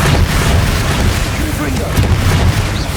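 A Confringo blast spell in the video game Hogwarts Legacy goes off as a deep, rumbling explosion with scattered crackling bursts, while a voice is heard over the booming.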